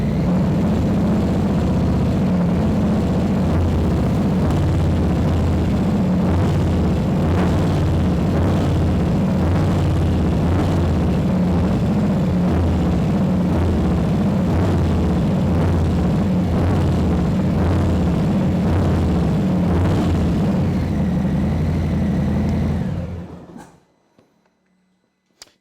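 A 2019 Harley-Davidson Softail Fat Bob motorcycle engine runs steadily with a deep, loud, lumpy rumble for over twenty seconds, then shuts off and leaves near silence.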